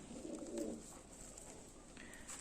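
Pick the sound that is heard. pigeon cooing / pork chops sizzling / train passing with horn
pigeon cooing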